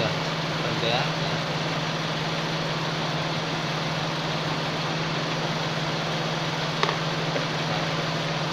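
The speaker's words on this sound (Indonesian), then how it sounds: "putaran mesinnya sudah semakin rendah ya" A Timor DOHC car engine idles at low rpm with a steady, even hum and low drone, held constant throughout at moderate level with no talk over it.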